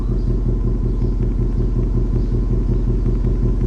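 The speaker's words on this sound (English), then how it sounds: "I wanted to give you a listen to the stock exhaust and idle." A 2020 Ford Mustang GT convertible with stock exhaust idles steadily at close range, a deep, even rumble with a low throbbing exhaust pulse that never changes.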